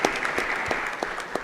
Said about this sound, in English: Once again, a round of applause for the Vice Chancellor.